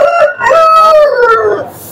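A red rooster crowing loudly and close at a poultry and livestock market in Baireddipalli, one long drawn-out cock-a-doodle-doo with no talking.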